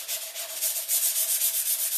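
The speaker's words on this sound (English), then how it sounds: "I'm going to rub it through to show some of that white under my paint" Abrasive rubbing works back and forth over black paint on a wooden crate to reveal white underneath, a close, steady, hissing scrub with gentle rhythmic swells and no voices.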